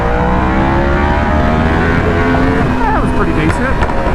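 A Yamaha R1M motorcycle engine roars loud and close as the rider tries a wheelie, revs climbing in steady harmonic sweeps with rushing wind throughout.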